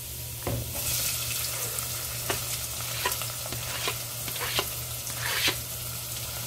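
Finely chopped medium onion sizzles in a pan with lightly crisped garlic, a steady quiet fry broken by scattered stirring scrapes and pops, with no talking.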